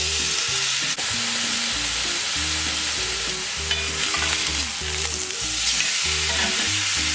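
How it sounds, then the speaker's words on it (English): A piece of chuck steak for carne asada searing in a pan indoors, a steady close sizzle over a low rhythmic rumble of background sound, with no one speaking. "So I have the fries in the oven and the meat cooking."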